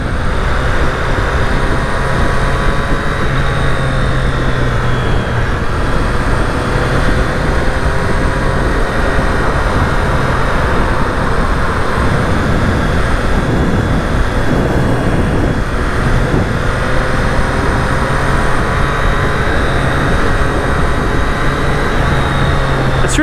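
A 2020 Triumph Street Triple RS motorcycle cruising smoothly in fourth gear, a constant engine drone under heavy wind rush that stays steady and loud throughout, with no talk.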